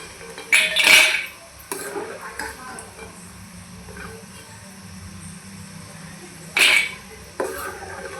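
Masala peanuts made with curry leaves are scooped out of the pan into a bowl, with two loud clattering scrapes of metal against cookware and softer rustling between them, close and fairly loud.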